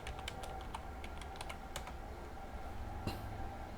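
Computer keyboard keys clatter in quick irregular bursts as a Google search is typed, close and clear, with a pause before a final sharper keystroke.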